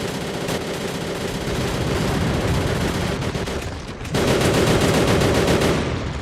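Sustained automatic gunfire in the video game M.I.A. Mission In Asia, a loud dense rattle of rapid shots that pauses for a split second and then resumes even harder, with no voices over it.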